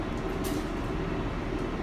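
A New York MTA subway train runs along the tracks, a loud continuous rumbling roar with steady low-frequency drone and faint metallic squeals, heard close and without talk.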